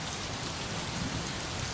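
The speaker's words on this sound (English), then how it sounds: "Perpetual rain." Steady, unbroken rain falls in the point-and-click adventure game Gemini Rue, a dense, even hiss of drops close around the listener with no voices.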